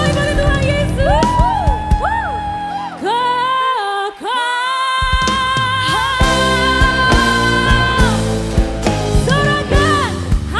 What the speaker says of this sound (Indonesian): Tepuk tangan yang baik bagi Tuhan Yesus